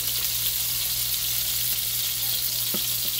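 Steaks sizzling in a hot frying pan, a steady loud crackling hiss with faint scrapes and clinks, no voices.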